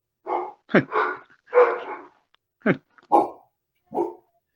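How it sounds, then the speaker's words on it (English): A dog barks repeatedly, seven or so close, loud yips and barks in an irregular rhythm with short pauses between them, heard alone without talk. "We don't have nerds, by the way, that to make the dog sounds disappear"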